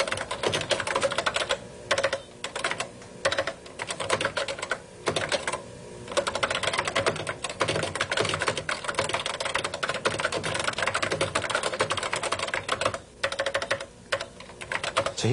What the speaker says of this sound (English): Let me just click over here and continue typing at this point right here.